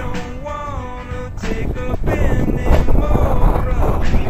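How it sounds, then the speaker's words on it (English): Gusty wind buffets the microphone across an open football field in strong, rumbling blasts, while someone talks briefly early on. "I don't like that wind. It's changing direction too."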